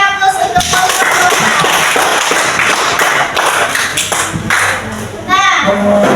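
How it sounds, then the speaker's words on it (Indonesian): Students clap for a group after its classroom presentation, a dense, sustained patter of many hands filling the room, with children's voices mixed in underneath. "beri aplaus untuk kelompok"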